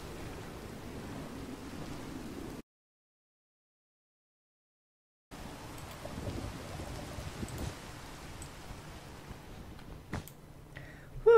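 Steady hiss of rain in a Minecraft FTB modpack world, soft and even, cutting out for a few seconds of silence before resuming with a few louder knocks and clicks near the end.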